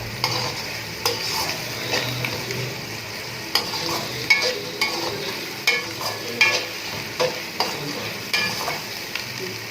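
Beef mince with ginger garlic paste frying in a pan, a steady sizzle broken by regular scraping stirs, close and fairly quiet, with no voices.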